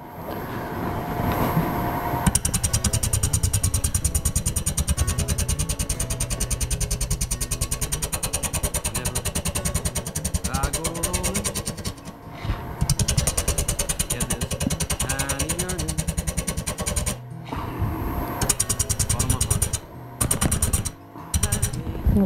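A wood lathe spins a bowl blank while a gouge peels off shavings, giving a continuous rough whirring and chattering drone with a few brief dips, close and loud with no talk.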